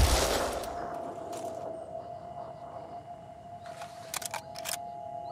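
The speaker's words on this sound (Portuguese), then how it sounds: "Mais um tiro." Gunfire in the tactical video game Phoenix Point: a sharp blast opens, then a long ringing tone hangs behind it while a few quick clustered bursts crack out later.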